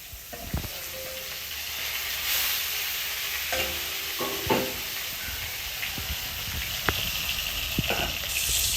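Snakehead fish frying in hot oil in a kitchen pan, a continuous close sizzle with occasional sharp pops and spatula scrapes scattered through, moderately loud.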